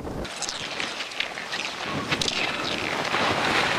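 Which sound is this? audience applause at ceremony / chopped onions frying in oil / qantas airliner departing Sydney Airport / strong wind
strong wind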